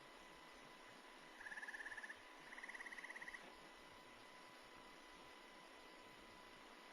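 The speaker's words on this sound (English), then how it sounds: "Gray tree frog." A gray tree frog calls with two short trilling bursts, each under a second, one after the other, faint and distant over steady hiss of outdoor background noise.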